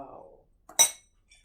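A metal spoon stirring tea in a glass, a few soft clinks followed by one bright ringing clink and a faint tap after it, with a quiet voice at the start.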